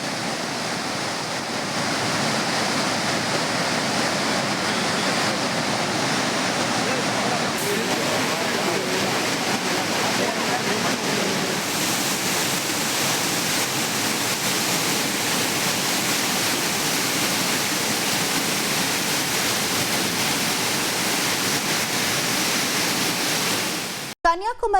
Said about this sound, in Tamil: திருப்பரப்பு அருவியில் ஆர்ப்பரித்து கொட்டும் தண்ணீர்